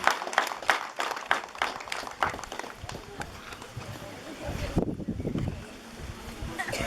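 Wedding guests applauding, with a loud burst of clapping near the start that fades under crowd chatter and voices.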